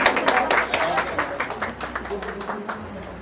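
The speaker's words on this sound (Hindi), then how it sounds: "एक जोरदार तालियां" Audience clapping at a live tribute music event in Delhi, a steady dense patter of many hands sustained throughout with faint voices mixed in beneath.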